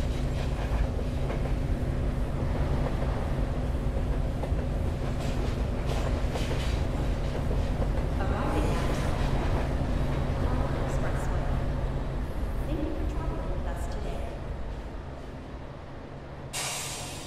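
A metro train runs in the Metro Sim Hustle video game, a loud continuous rumble with hiss and faint rail clatter that eases off slightly near the end.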